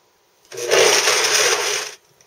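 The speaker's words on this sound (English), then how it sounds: "we're going to blend that for about 30 to 45 seconds" A countertop blender whirs loudly as it blends almonds with water, a steady continuous roar lasting about a second and a half and ending abruptly, with no voices over it.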